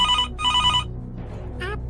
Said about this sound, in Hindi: तो कंप्यूटर महोदय, मिस्टर छोडूमल जी की गर्लफ्रेंड छमक छल्लो को फोन लगाया जाए।